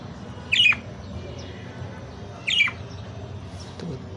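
Caged baby birds give two sharp, loud squawks about two seconds apart and a fainter call after, over quiet room noise.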